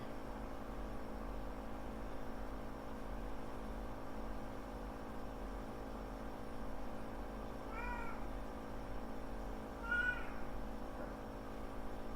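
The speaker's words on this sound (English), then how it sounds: "Cat is not happy with the way this game is going so far." A cat gives two short, faint meows a couple of seconds apart over a steady background hum, with no talking.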